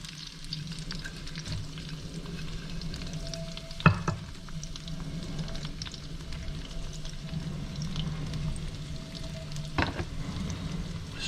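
Shallots fry in a pan with a steady, soft sizzle throughout, close by, broken by a couple of brief clatters of a utensil stirring.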